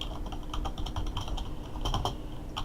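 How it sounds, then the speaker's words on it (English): Rapid typing on a computer keyboard, a steady stream of close, crisp key clicks with no pauses and no voices. "I'm typing quite fast here"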